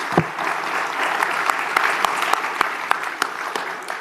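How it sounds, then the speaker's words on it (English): At a town hall meeting, a crowd gives sustained applause. A few sharper, louder claps stand out from the steady clapping. "Let's give them a round of applause."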